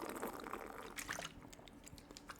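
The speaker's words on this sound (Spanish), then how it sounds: "Dios, cómo suena esta botella de agua" Crinkly, crackling rustle of a plastic water bottle being squeezed and handled, with a watery sloshing texture, close and fairly steady throughout, no voices.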